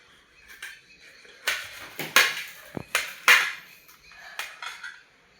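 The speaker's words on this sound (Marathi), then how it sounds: "आता आपण हे लिंबू चिरून घेऊ." Knife blade striking a cutting board as lemons are chopped for a jaggery pickle, several sharp irregular knocks close by with softer taps between, no voices.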